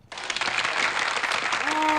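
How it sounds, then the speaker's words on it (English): Sudden audience applause that swells within a moment into a dense, sustained wash of many hands clapping, loud and continuous, with a voice starting to come through near the end. "I appreciate the applause"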